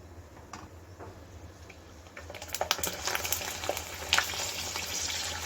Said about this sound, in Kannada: ನೋಡಿ ಎಷ್ಟು ಚೆನ್ನಾಗಿ ಫ್ರೈ ಆಗಿದೆ